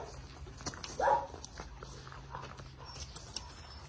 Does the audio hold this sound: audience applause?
no